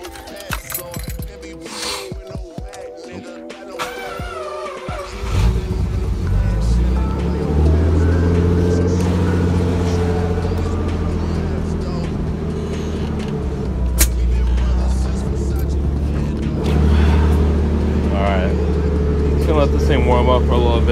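A Nissan 300ZX engine warming up: a steady, loud idle rumble fills most of the clip after a few seconds of clatter, with small rises in revs, heard close up and without talk.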